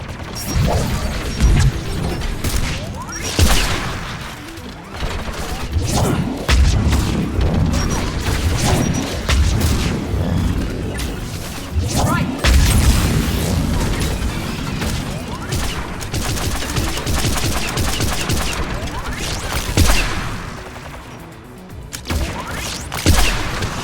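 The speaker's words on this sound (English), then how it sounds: "Mounted turret." Sustained heavy automatic fire from a mounted turret in Mass Effect 3, with dense repeated blasts, crashes and booms running loud and close throughout the whole stretch, no talk.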